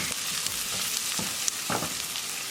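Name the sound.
onion frying in a pan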